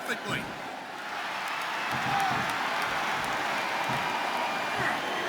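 A capacity wrestling arena crowd at an Undertaker versus Great Khali match, roaring and cheering in a steady wash of noise with a few sharp slaps and thuds.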